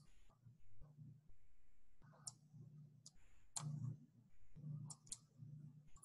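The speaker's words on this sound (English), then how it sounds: "Click on this." Sharp, isolated computer mouse clicks, a handful spread irregularly over a few seconds, close and quiet against a low murmur of voice in the background.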